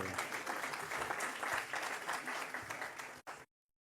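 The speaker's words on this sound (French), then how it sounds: "Vous pouvez l'applaudir au même titre que." An audience at a 25th anniversary celebration with a minister claps in dense, steady applause with some crowd murmur, then the sound cuts off abruptly.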